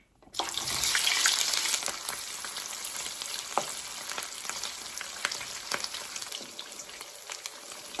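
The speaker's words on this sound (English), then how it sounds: "Now I'm going to go ahead and add my sausage." Sausage frying in a pan for Southern hoppin' John rice, a loud steady sizzle that starts abruptly as the links hit the hot pan, with occasional pops and scrapes throughout.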